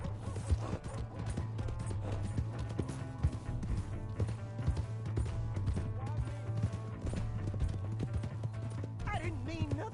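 A horse gallops in Red Dead Redemption 2, its rhythmic hoofbeats running steadily through a busy game soundscape. Music plays throughout, with a brief whinny-like cry near the end.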